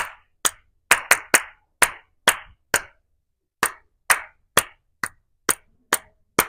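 Hands clap out a simple rhythm during a church presentation: sharp, close, dry claps in short groups with brief pauses between them, heard alone.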